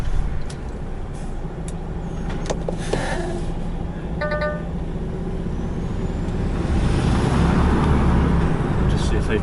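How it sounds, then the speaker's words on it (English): Outside a warehouse, car engines idle and rumble near a truck as a few cars are moved for a roadside tip, with short hissing and beeping bursts early on and the engine drone swelling toward the end. "They're just moving a few cars now."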